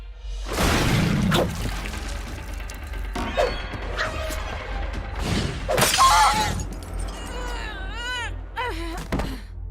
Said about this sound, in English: somebody literally just slamming a glass bottle